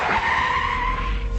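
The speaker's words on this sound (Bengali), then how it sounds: "পুলিশের গাড়ি এসে আমাদের ট্যাক্সির পিছনে সশব্দে ব্রেক কষল" A police car brakes hard behind a taxi beside a graveyard, tyres skidding in one long, loud screech that stays steady for over a second before easing off.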